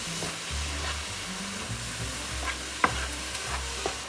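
Carrots sizzle in a frying pan while being stirred, a steady close hiss of frying with occasional scraping clicks from the stirring.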